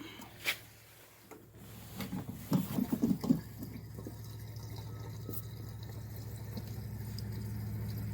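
Fuel pours from a gas can converted from new style to old style with a newly added vent, starting with a few clicks and gurgles, then settling into a steady close stream of liquid.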